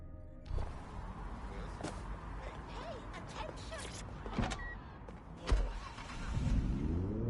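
A car is driven in the Watch Dogs: Legion video game, with a low engine hum running throughout, punctuated by a few sharp clunks and thumps and a rising rev near the end.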